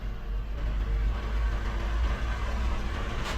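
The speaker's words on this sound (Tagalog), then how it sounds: "Umaandar ang makina niyan." A 2007 Lexus LS460L sits idling, its engine giving a low, steady hum that stays smooth and even for a few seconds with no revving and no voices.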